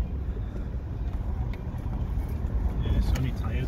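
A Land Rover Discovery on standard running gear apart from its tyres crawls along a rough green lane in Wales, its engine rumbling steadily under wind buffeting, while people talk inside.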